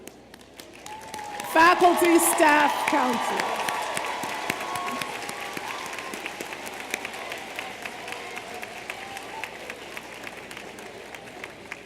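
A commencement crowd breaks into applause for the faculty, staff and counselors, the clapping swelling up after a brief spoken line, then settling into a long, gradually thinning patter.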